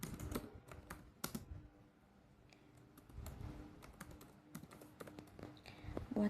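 Computer keyboard typing in short irregular bursts of soft clicking, close and quiet, pausing briefly in the middle before resuming; no speech.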